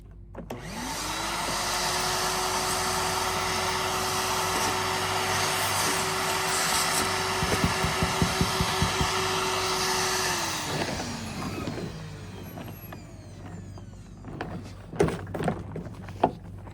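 A Craftsman 5 gallon shop vac runs with a steady loud whine and roar for about ten seconds, then winds down, followed by a few thumps and knocks as it is handled.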